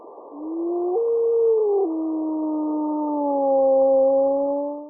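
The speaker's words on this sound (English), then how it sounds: "decode wolf communication by matching their howls with specific behavior" Wild wolves in Yellowstone howl in a long, clear, overlapping chorus of sliding tonal calls, two or three voices rising and holding steady for several seconds in a quiet outdoor setting.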